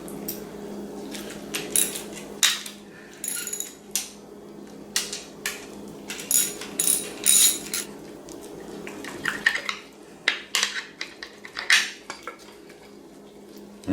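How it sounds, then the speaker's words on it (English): Metal parts clank and rattle as the counter shaft is pulled from a Volkswagen engine block, with repeated close, sharp knocks and scrapes of steel on steel in an irregular rhythm, no talking. "I might as well go ahead and remove the counter shaft here"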